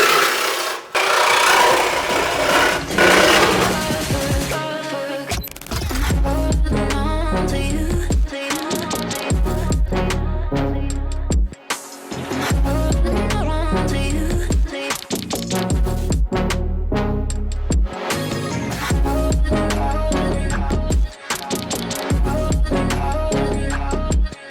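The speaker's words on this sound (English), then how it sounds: "Sawzall is very important for this type of job" A Sawzall reciprocating saw cuts through material on a car repair job, a rough, continuous rasping buzz that stops and restarts in bursts over the span, loud and close without talk.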